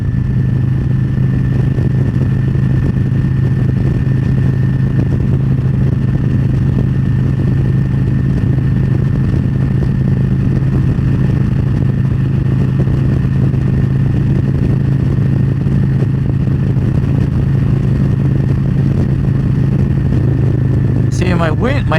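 A motorcycle fitted with a 6-inch windshield cruising at over 80 mph on the highway, with a constant loud engine drone and rushing wind filling the whole stretch and a short clattering flutter near the end.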